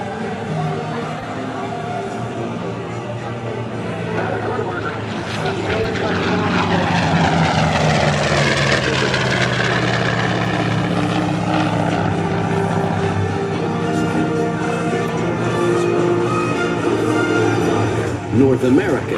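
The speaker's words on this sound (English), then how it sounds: "And now from the left, Jim Tobul flying the 1945 chance-bought F4U Corsair" A 1945 F4U Corsair propeller fighter roars past at an air show, its engine note swelling and sliding in pitch as it flies by, loud and continuous under an announcer's voice.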